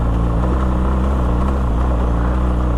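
Heavy off-road riding on a BMW R1200 GSA adventure motorcycle over a rocky hill track, its boxer engine droning steadily at constant throttle, loud and close, with no talk.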